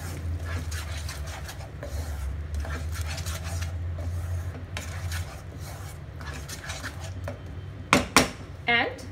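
A spoon mixes prawn curry seasoned with salt and sugar in a pan, with soft scraping and stirring under a voice, then a few sharp metallic clanks near the end.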